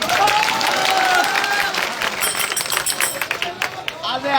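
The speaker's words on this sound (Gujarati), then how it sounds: "એમના માટે જોરદાર તાળીઓ." A crowd at a nighttime farmers' rally in Botad claps and applauds, a dense burst of clapping that thins into scattered claps, with a voice speaking over it at the start.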